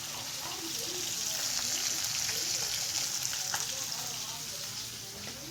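Steady, crackling sizzle of food frying in hot oil, close and continuous, with faint scattered pops throughout.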